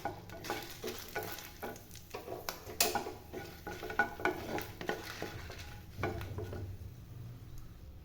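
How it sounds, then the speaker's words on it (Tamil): About seven dried red chillies roast in a little oil while a spoon stirs them. A close, continuous sizzle is dotted with quick scraping and tapping strokes against the pan. "கொஞ்சமாக எண்ணெய் ஊற்றிக்கலாம் மிளகாய் ஒரு ஏழு சேர்த்து நல்லா வறுத்து எடுத்துக்கலாம்"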